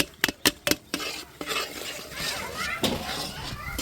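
Boiled potatoes being stirred and sautéed in a pan: sharp metal spoon clanks against the pan at the start, then a steady sizzle with scraping stirs, a voice faintly under it.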